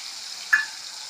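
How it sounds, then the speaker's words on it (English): Onion and ginger garlic paste sizzle in frying oil after peppercorns, a quiet steady hiss with one brief stirring clink in the middle. "now we'll add our onion and ginger garlic paste"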